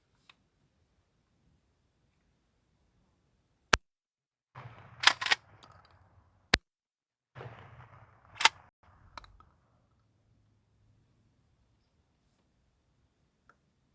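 A gun firing double lock buckshot rounds: about five sharp, loud reports spread over several seconds, two of them close together, some followed by a brief rumbling tail, with quiet gaps between.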